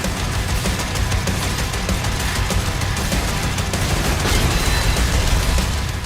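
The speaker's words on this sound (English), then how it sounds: "Doom has and always will be all about the guns" Weapons fire in the video game Doom: The Dark Ages as a dense, loud, continuous barrage of rapid shots and booms, filling the whole stretch with no pause and no talk.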